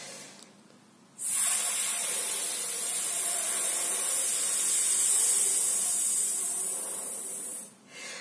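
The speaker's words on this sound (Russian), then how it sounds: "диафрагма у нас давит на легкие, которые вот с силой выпускают вот этот воздух" A forceful, steady hiss of air pushed out through the mouth during a vocal breathing exercise, loud and close, lasting about six seconds with abrupt onset and release, with quiet room tone before and after.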